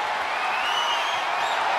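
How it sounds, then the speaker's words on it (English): A dense crowd roar fills the whole moment, a steady wash of cheering with no breaks, from a wrestling video game ambulance match. "The sound of this crowd is deafening"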